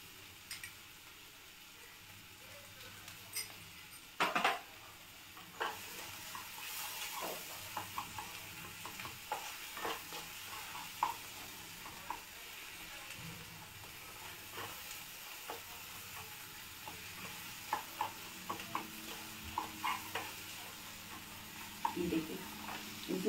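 Water chestnuts being roasted and stirred in a pan on a home stove, a faint continuous sizzle with scattered scrapes and clinks of the spoon against the pan, quiet and close, with a voice speaking at times.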